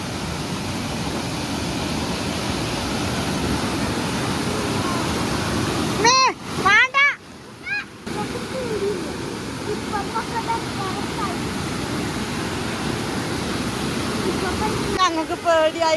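A waterfall in a forest stream swollen by flooding, heard on a fishing outing, gives a steady, loud, broadband roar throughout. Brief voices break in partway through and again near the end.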